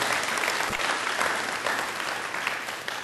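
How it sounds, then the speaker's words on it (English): An audience at a gathering breaks into applause, dense, steady clapping that holds at a fairly loud level and fades slightly toward the end, with no voices over it. "So I really want us to give a round of applause for that"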